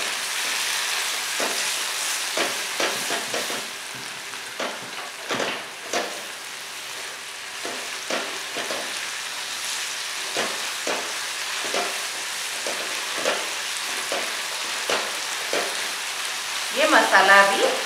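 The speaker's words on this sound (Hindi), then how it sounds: "उसको ऐसे ही 2 मिनट तक ऐसे सौते करते रहो।" Fajita filling sautéing in a pan crackles with a steady sizzle as it is stirred, with repeated scraping strokes at an even rhythm and a louder burst near the end.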